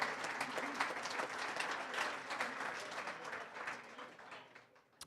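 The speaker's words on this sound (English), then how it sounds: "give them a round of applause" A banquet crowd at a sports hall of fame induction applauds, a dense wash of clapping that holds steady for several seconds and then tapers off.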